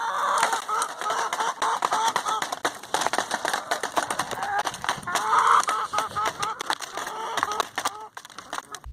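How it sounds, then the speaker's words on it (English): Chickens cluck and squawk busily while voraciously eating larvae at feeding time, a dense, close chorus of overlapping clucks with scratchy pecking underneath. "why do the chickens eat the larvae so voraciously?"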